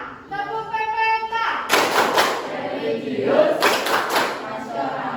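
A class of children claps through the rhythmic PPK clapping chant, with sharp bursts of group claps between chanted words in a classroom.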